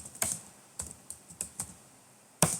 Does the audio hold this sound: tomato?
no